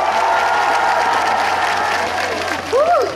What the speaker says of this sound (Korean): 끝까지 박수와 함성 많이 많이 보내주세요.